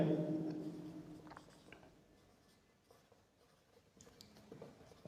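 A teacher writes out a physics derivation for the magnetic field at the centre of a circular coil, producing soft, continuous scratching and tapping strokes close by, with no talking.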